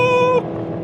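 A VW Golf Sportwagen MK7 fitted with an IS-12 turbo and JB4 tune revs hard under acceleration, a brief tonal engine whine that cuts off abruptly into a lower rumble, close and loud.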